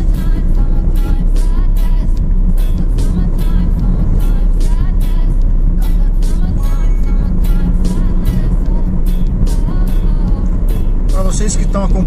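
Constant road roar of cars, trucks, buses and tractor-trailers on a highway, recorded from inside a moving car, with steady low rumble and repeated whooshes of vehicles passing close by throughout; a voice talks over it.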